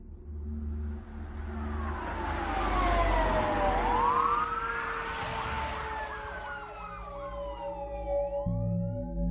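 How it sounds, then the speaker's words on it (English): Police and ambulance sirens wail through woods near a remote mobile home, rising and sweeping in pitch as the emergency vehicles approach, loud and steady with engine rumble beneath, growing nearer over several seconds. "he heard sirens approaching through the woods"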